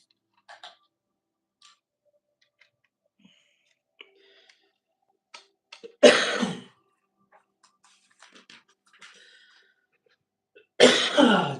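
A person gives two sharp, loud coughs several seconds apart, with faint small clicks and ticks of handling in a quiet room between them.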